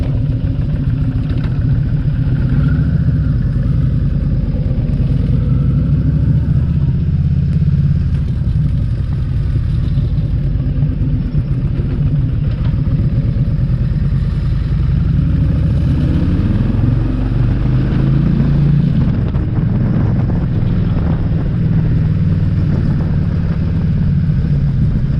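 A Kawasaki motorcycle with its original Kawasaki exhaust pipes runs close by, making a continuous loud, deep rumbling throb that holds steady throughout, with no voices.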